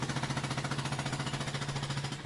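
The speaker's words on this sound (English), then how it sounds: "I didn't know the mine noise, it's a jackhammer noise that stops and starts." Mine jackhammer in Farming Simulator 22 on PS4, a rapid, steady mechanical hammering pulse repeating evenly at moderate loudness, alone with no voices.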